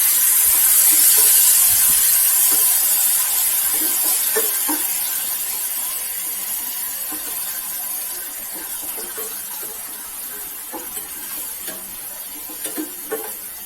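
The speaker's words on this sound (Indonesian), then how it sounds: "Nah, ini kita tumis dulu ya teman-teman, sambal yang tadi." Chili sambal sautéing in a pan for a tofu sempol dish makes a bright, continuous hiss and sizzle that slowly fades, with faint scraping of a utensil toward the end and no talking.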